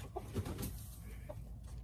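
A large, soft backyard hen held in the arms gives a few faint, soft clucks against a quiet outdoor background, with no talk over them.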